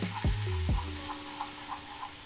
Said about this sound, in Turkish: hafif kokusu çıkana kadar dediğimiz tabirle unumuzu kavuruyoruz